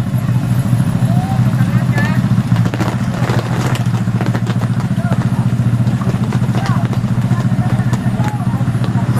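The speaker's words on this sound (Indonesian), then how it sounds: "Itu motor juga nggak kuat, didorong." A motorcycle engine strains on a steep hill climb among queued vehicles, a loud, continuous low drone with irregular revving and rattling throughout, under occasional nearby voices.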